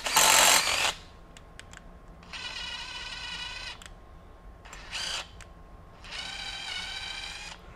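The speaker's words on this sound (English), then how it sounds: "I'm going to open it up to a larger tapped hole" Bursts of mechanical grinding and squealing from a hand-turned combination drill-tap cutting threads into a hole, a sharp loud start then two longer steady passes with short pauses between.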